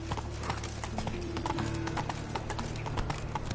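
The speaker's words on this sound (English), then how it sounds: "Run, Roach" Horse hooves clip-clopping at a run in the video game The Witcher 3, a steady rapid rhythm over low ambient game sound, fairly quiet.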